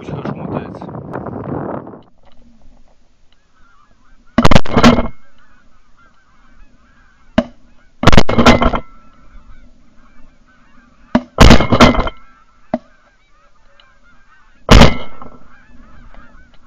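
During a goose hunt, a flock of geese honks over wind noise, with several loud, sudden bursts spaced a few seconds apart.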